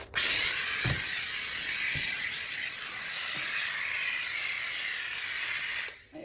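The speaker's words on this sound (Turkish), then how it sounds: "şimdi tekrar bir buhar daha vurayım da içim rahatlasın" A Kiwi KSC-4210 steam cleaner releases a steady, loud hiss of steam that runs continuously for about six seconds, with a few faint knocks underneath, before cutting off abruptly.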